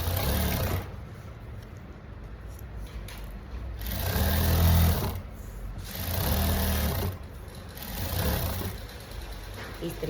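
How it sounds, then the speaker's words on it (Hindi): Sewing machine stitching fabric while a neck design is sewn, running in several bursts of steady whirring hum with short pauses between them, close and moderately loud. "पिन हटाते जाओ और सिलाई लगाते जाओ।"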